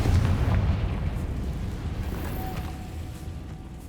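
A Confringo fire spell explodes in Hogwarts Legacy, a heavy booming blast with a rumbling low roar that slowly fades over a few seconds, loud and close, with no talking.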